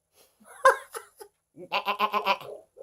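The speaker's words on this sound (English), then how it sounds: "It's pretty sad when you only make sense to a plastic goat." A plastic toy goat bleats: a sharp bleat opens, then a rapid, wavering string of bleats follows, close and clear with no talking over it.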